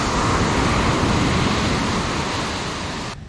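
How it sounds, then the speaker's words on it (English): Surf rolls onto the beach at Praia d'El Rey on Portugal's Silver Coast, a dense, continuous roar of breaking waves and wash that stays loud and even throughout, with no voices. "but those waves can still dump you."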